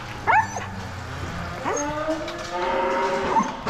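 Dairy cows on Dinitto Dairy Farm low in several drawn-out, wavering calls, close by, against a steady barn background with a dog whimpering nearby and faint voices.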